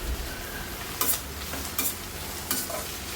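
Steady frying sizzle of chopped tomatoes fills the background while a utensil scrapes and stirs the pan in three distinct strokes about a second apart.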